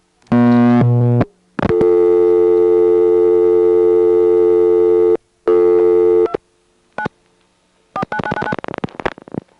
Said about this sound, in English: ends up on the Goshen vacant level intercept with the usual clanging noises